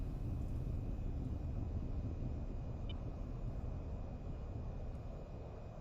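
A steady broad roar from a jet engine building during takeoff in the VTOL VR flight game, continuous and fairly quiet, with no voices over it.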